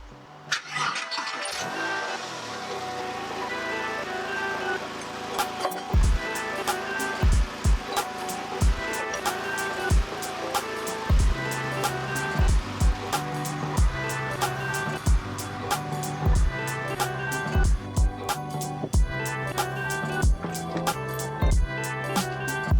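A car is started and then driven on a road just after its track rod ends were replaced; the engine turns over and settles into a steady mid-level hum, with a regular series of sharp clicks and knocks over it.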